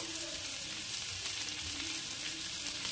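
Chicken frying in a pan with garlic paste, stirred now and then while browning for a spicy chicken dish: a steady close sizzle with soft scraping, no voices.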